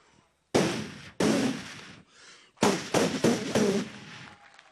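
Firecracker-like bangs are imitated: two sharp blasts, then a rapid cluster of four or five loud pops, close and sudden.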